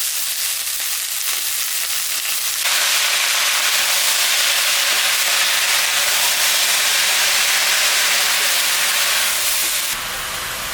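Pea greens tossed into a pan of frying potato and eggplant bring a sudden jump in sizzling, which stays loud and continuous before easing near the end, with no talking.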